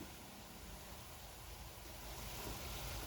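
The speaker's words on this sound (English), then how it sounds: "Boil the dates with the water. You can see it's nice and boiling all over it." Dates boiling in water in a pot on the stove, a continuous broadband bubbling and hissing roar, steady and close, growing slightly louder toward the end, with no voices.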